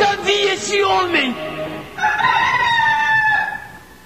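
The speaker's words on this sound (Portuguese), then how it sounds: "Antes que o galo cante" A rooster crows loudly and close, a full drawn-out call followed by a second crow, set within a dramatized radio reading of a Bible passage.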